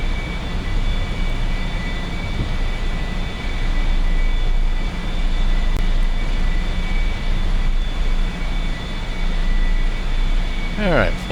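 Aircraft climbing out after takeoff in the DCS flight simulator, with flaps and gear retracted: a loud, continuous engine roar and airflow drone that holds steady throughout.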